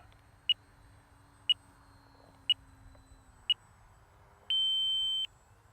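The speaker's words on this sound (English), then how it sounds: "Got the timer set to 5 minutes, and it's just about ready to go off right now." RC flight timer for an FMS Ranger 1220mm V2 model plane beeping four evenly spaced short chirps about a second apart, then one longer sustained tone, clear and close over a low background hum.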